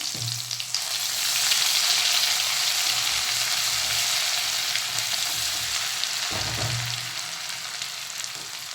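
Garlic and ginger paste sizzle in hot oil with cumin seeds: a steady, close, hissing fry with fine crackle that runs unbroken for several seconds, broken once by a dull knock of a spoon against the pan.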